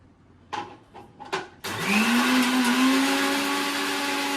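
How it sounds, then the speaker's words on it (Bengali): A kitchen blender grinds black and white mustard seeds. A few soft knocks come first, then the motor kicks in with a loud, steady whirring grind that rises in pitch and holds to the end. "দেখো কিছুটা কালো সর্ষে, কিছুটা সাদা সর্ষে, এটাকে গুঁড়ো করে নিই।"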